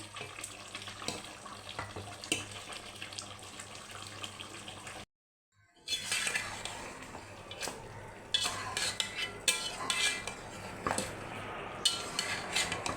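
Mutton curry being stirred in a pot, with soft scraping and clinking of a spoon against the pot under a low bubbling hiss, broken by a short silence before the stirring grows louder and more rapid.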